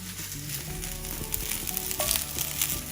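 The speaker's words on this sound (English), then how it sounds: "we're going to throw in the cauliflower into here just to give it a bit of a fry up" Cauliflower pieces and a clove of garlic frying in a pan, a loud, close, continuous sizzle with small crackles and pops and a few light knocks of the pan, no talking.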